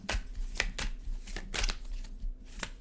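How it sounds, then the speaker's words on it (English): Tarot cards are shuffled close up in a few quick riffling bursts, with short papery flutters separated by brief pauses. "One more shuffle."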